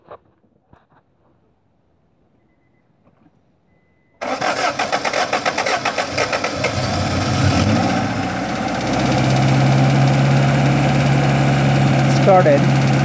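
A Honda car engine cold-starts after a few seconds of near silence, catching abruptly with a loud crank, then settling into a steady, somewhat high idle with a persistent low hum, close and loud.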